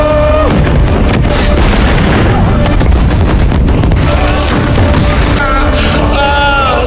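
Loud booming missile explosions in a film rumble one after another amid crackling debris and dramatic cinematic sound, dense and continuous.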